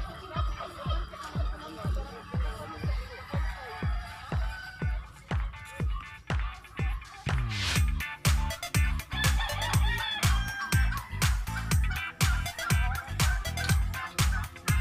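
Chickens cluck and a rooster crows on a goat farm, loud repeated rhythmic calls throughout, with a brief bright crow near the middle and faint background noise.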